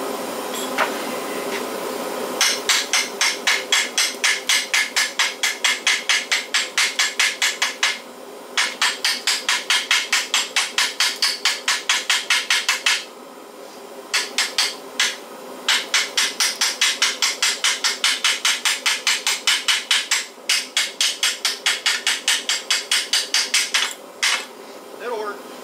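A hand hammer tapping on sheet metal while building a bead roller from a Harbor Freight pipe threader, with fast, loud, evenly spaced metallic strikes in long runs broken by short pauses.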